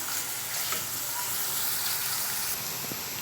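Onions fry on a medium flame for biryani, giving a loud, even sizzle that holds steady for a few seconds with light stirring mixed in.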